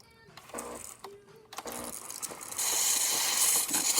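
A Jura Impressa F7 espresso machine, freshly serviced and descaled, brews a test shot: mechanical whirring and clicks give way to a loud, steady rushing hiss of the pump that holds to the end.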